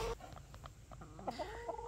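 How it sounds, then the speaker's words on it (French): Farmyard hens clucking softly nearby in short, scattered calls, fairly faint, with a little background noise and no speech. "Bon, je vais aller voir les poules."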